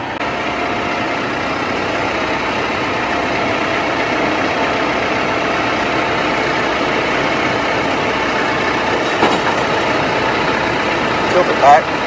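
A red tractor's engine idles steadily and loudly nearby, a constant low rumble holding throughout with little change, while people talk over it.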